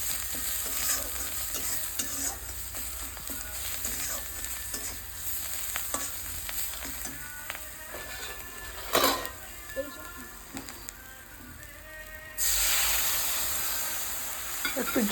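Vetki fish masala in oil being stirred and fried in a pan, with a steady sizzle and repeated scraping strokes, closer and harsher bursts near the end.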